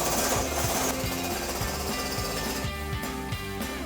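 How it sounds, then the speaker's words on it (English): Power drill boring holes into a 2010-2014 Mustang GT/CS style rear spoiler from MP Concepts, a steady loud whirring grind with brief pulses and slight pitch dips as the bit bites, heard alone with no talking. "I'm going to go ahead and drill out the other holes"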